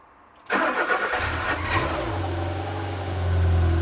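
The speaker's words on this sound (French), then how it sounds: "j'ai quand même envie d'essayer de démarrer la voiture" A car engine with a drained battery cranks and catches, then settles into a steady, low idle that grows slightly louder near the end.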